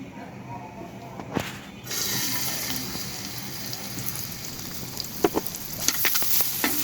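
Chopped onion and garlic fry in a small amount of oil in a pan, a steady close hiss broken by occasional clicks and scrapes of stirring, with some talking under it.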